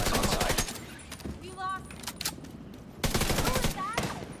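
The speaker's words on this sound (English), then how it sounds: "stop shooting your gun." Gunfire in the online shooter The Division 2 during a player-versus-player match, with dense, loud rapid-fire bursts of automatic weapons in two heavy volleys separated by a quieter stretch with scattered shots and electronic tones.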